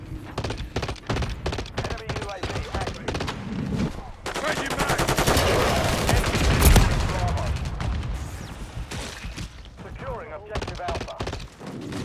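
Gunfire in a military shooter video game, with dense bursts of automatic rifle fire and scattered single shots in steady, overlapping volleys throughout, under radio-style voice callouts.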